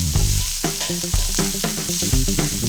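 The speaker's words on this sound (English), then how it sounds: "we will cook the guanciale slowly is because we want our guanciale to be crispy" Guanciale fries slowly in a pan with a loud, close sizzle, broken by repeated stirring scrapes and shifts in the crackle.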